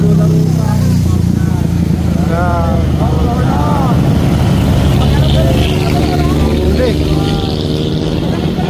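Motorcycle engine running steadily under continuous talk, a constant low drone with a busy roadside setting as a rider is stopped by highway patrol.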